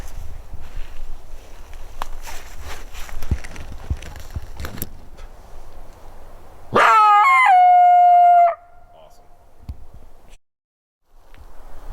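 A trapped coyote caught on a chain in the field lets out a loud, sustained howl that rises then trails off, after a stretch of faint outdoor noise and soft thumps.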